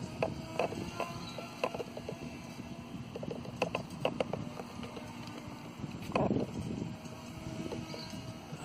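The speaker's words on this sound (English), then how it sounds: "It's windy." Steady wind gusting across a microphone at an outdoor RC flying field, a continuous broadband rumble with a few brief knocks and rattles, no talking.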